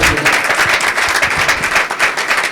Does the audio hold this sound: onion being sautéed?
no